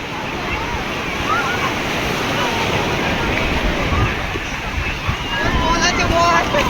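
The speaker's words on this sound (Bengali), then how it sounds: "ঢেউটা বড় আছে" Large sea waves break on the beach at Digha, a steady broadband wash of surf with wind noise on the microphone and faint voices in the background.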